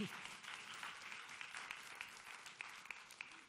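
Audience applause fills a festival talk hall, a steady wash of many hands clapping at moderate distance with a few sharper individual claps standing out, no speech over it.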